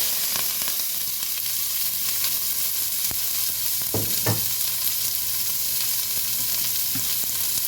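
Chopped celery and onion fry in a pot with a loud, steady sizzle, broken by a few brief clanks and scrapes of a utensil and a faint low hum in the background.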